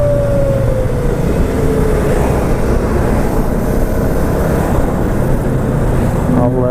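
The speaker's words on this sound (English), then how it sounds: "I'm going to ride a little bit further on," A Yamaha MT-125 motorcycle rides along the road, its engine a steady drone under heavy rushing wind buffeting the microphone, loud and continuous throughout.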